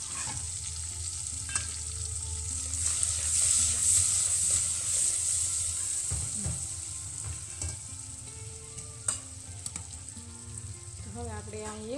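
Tomatoes with a pinch of salt fry in a pan for a stuffed eggplant curry, giving a steady, close sizzle with occasional stirring scrapes and clinks across the whole stretch and no talking.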